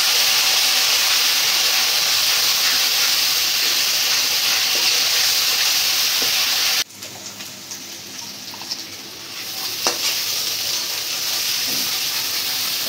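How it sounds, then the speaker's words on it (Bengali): Onion paste frying in oil, with a loud, steady sizzle for the first half before it suddenly drops to a quieter crackle with a few scattered pops. "পেঁয়াজ ভাজাটা প্রায় হয়ে গেছে।"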